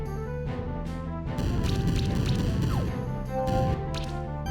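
Leaf Slash attack in the Monster Sanctuary video game: a dense, loud burst of crashing, slashing game effects lasting several seconds, with sharp hits layered over a busy music bed and no talking.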